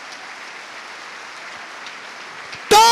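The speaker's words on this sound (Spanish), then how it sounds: "Vamos a dar un fuerte aplauso a Jesús." Church congregation applauding during an evangelical service, a steady dense wash of clapping that holds evenly, then cuts off abruptly as a voice begins speaking at the end.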